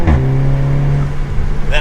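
Tuned Audi S3 engine pulling at half throttle: a loud, close, steady engine drone with a rising pitch toward the end, and a voice over it.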